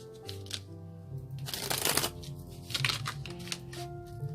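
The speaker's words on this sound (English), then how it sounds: "One more shuffle" A deck of tarot cards is riffled and shuffled close up, giving repeated papery bursts of flapping and clattering, with a couple of louder riffles mid-way, and no talking.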